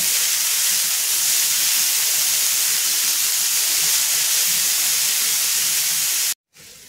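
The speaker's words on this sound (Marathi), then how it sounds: "आता ह्याच्यामध्ये जी आपण मेथी कट करून घेतलेली आहे ती टाकून आपल्याला भाजून घ्यायची आहे" Chopped fenugreek leaves roasting in a hot pan produce a loud, even, steamy hiss that holds steady for several seconds before cutting off abruptly near the end, with no talking.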